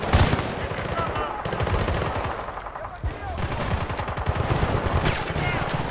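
Rapid bursts of gunfire, including shotgun blasts, crack through a Battlefield Bad Company 2 firefight in Himalayan mountains, loud and repeated, with a player talking between shots.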